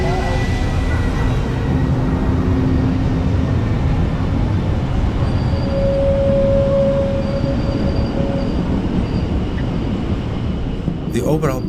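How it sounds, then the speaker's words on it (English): The Pullman Glacier Express train rumbles steadily along the rails with a continuous low roar, faint high squeals from the wheels now and then, and a brief clatter near the end. "we rejoin the Pullman Glacier Express train"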